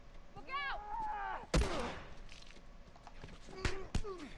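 Gunshots in The Last of Us, sharp cracks ringing out twice in a row near the start and again later, loud and close, mixed with in-game chatter and voices talking throughout.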